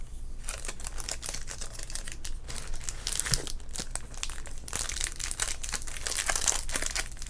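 Close, crisp crinkling and rustling of a wax-paper wrapper on a 1990 Topps baseball card pack, handled continuously in dense, sharp bursts with no voice present.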